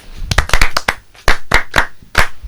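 A class claps hands in quick, uneven bursts during a French lesson, loud and close, with no talking over it.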